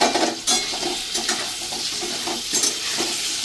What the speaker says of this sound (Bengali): পনিরটা আমার ভাজা হয়ে গেছে, তা হালকা ভাজা করবো